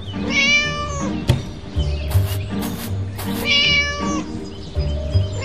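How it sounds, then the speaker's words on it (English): A cat meows repeatedly in the Scary Teacher 3D video game, giving several clear, drawn-out cries in a short sequence, with sharp thuds and game sounds between them. "Naughty cat again."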